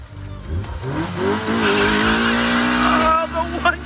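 A Honda Civic EG coupe doing a burnout, engine revving hard over loud, sustained tire squeal, close and continuous for several seconds with a brief dip near the end.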